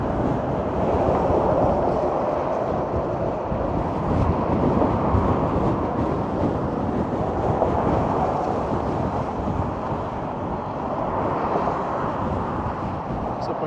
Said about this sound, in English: It's so windy, man.